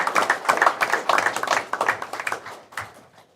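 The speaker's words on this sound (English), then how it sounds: "If we could give the retirees one more round of applause" A school board meeting audience gives retirees a round of applause, brisk close clapping that thins out and trails off within a few seconds.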